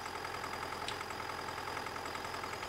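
An MTZ-82 tractor engine strains under load while climbing a hill in Farming Simulator 19, a steady droning hum with a faint brief click partway through and no speech.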